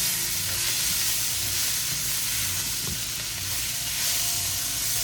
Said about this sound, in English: because this is stir fry, just like I said, you have to continue to stir it